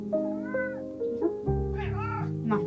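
A domestic cat meows several times up close, drawn-out wavering calls in a quiet room, with a soft voice murmuring between them.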